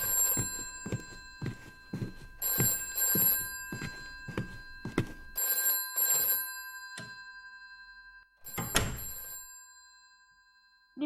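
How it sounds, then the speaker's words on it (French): A telephone bell rings in a bookshop in repeated bursts of rapid metallic trilling separated by short pauses, with a dull thunk partway through, close and clear with no talking. "On m'appelle au téléphone."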